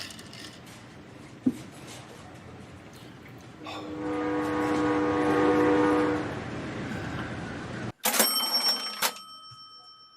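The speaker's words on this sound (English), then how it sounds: "Get that train going." A train sound effect plays during a livestream: a rumbling run with a sustained horn blast in the middle, then a sudden break and a bright, ringing chime-like burst at the end.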